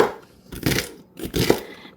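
Celery stalks sliced with a knife on a board for a slow cooker pot roast: two short, crisp bursts of crunchy cutting, close and clear, with no talk.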